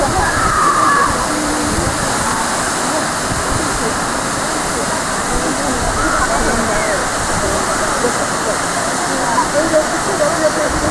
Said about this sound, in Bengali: এত জোরে জল নামছে